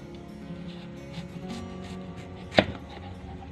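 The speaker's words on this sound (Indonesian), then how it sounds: "iris bengkuangnya" A knife slices through jicama on a cutting board, giving one crisp, distinct cut against a quiet kitchen background.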